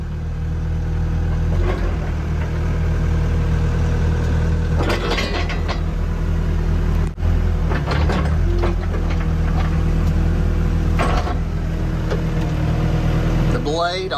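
A Yanmar ViO80 compact excavator's diesel engine idling, a steady low rumble throughout with brief mechanical clanks and rattles rising over it at a few points.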